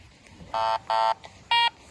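Three short, bright electronic beeps from a Garrett ACE 300 metal detector's pinpoint mode in an irregular rhythm, each a steady buzzy tone, with near silence between them.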